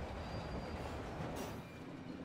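Passenger train running over a defective switch, a steady low rumble of wheels and cars with a faint high squeal and a brief brighter burst partway through, moderately distant.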